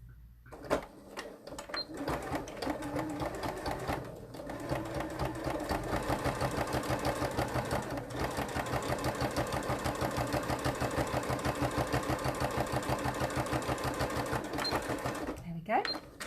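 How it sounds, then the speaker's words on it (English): A sewing machine runs steadily, stitching close to an existing seam while attaching the pocket bag of a single welt pocket; the rapid, even mechanical whir continues for most of the stretch, with brief pauses at the start and end. "I'm going to stitch fairly close to the stitching that was already there."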